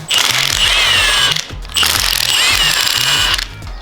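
A ratchet wrench spins off bolts from a K24 engine's oil pump, two long bursts of rapid, loud metallic clicking separated by a short pause, close up with no talk.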